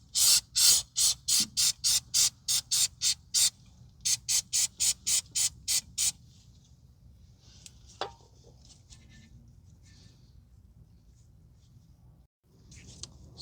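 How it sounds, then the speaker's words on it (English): A spray bottle fires about twenty quick hissing bursts of cleaner onto a hose clamp on a 2011 Kia Forte 2.4 EVAP vapor canister, in a steady rhythm with a short break midway, then faint clinks and background hum. "We're going to spray this down."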